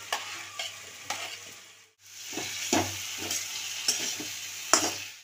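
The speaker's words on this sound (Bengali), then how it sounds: "এবার আমার মশলাটা থেকে তেল ছেড়ে দিয়েছে, আমি এবার আলুগুলো দিয়ে দিচ্ছি।" Potatoes frying and being stirred in spiced oil for a Bengali hilsa fish curry; steady sizzling with repeated scraping stirs, close and moderately quiet, with a brief pause partway through and no talking.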